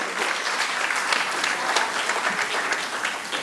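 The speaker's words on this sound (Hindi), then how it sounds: "एक बार गौरव चौहान के लिए सब मिलकर तालियां बजाएं" A large crowd at a Hindi poetry gathering (kavi sammelan) claps steadily for poet Gaurav Chauhan, a dense, sustained wash of applause with no pauses.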